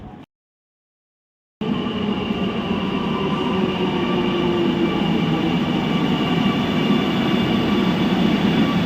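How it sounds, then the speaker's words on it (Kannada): After a short silence, a Kochi Metro train carries on with a loud, steady rumble and a sustained tonal hum heard from inside, with no one speaking. "ನೋಡಿ, ಕೊಚ್ಚಿ ಮೆಟ್ರೋ."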